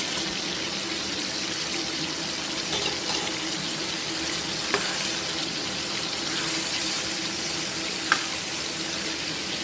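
Washed mixed vegetables go into a pan of cooked masala with released oil, giving a steady moderate sizzle and hiss with a couple of faint clinks, and no talk.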